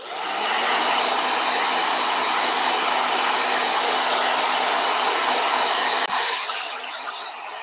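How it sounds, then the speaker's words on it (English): A blow dryer runs steadily at close range, a loud continuous whooshing roar that holds for several seconds, with a brief bump near the end before easing slightly. "let me blow dry. Blow dryer."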